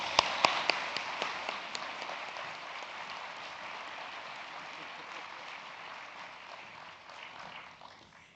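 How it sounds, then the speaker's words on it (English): Applause from a conference plenary audience: a few sharp claps open it, then a soft, steady patter of clapping that slowly fades, heard from a distance and fairly quiet. "I'd like to have Virginia come up to the stage and give her a round of applause"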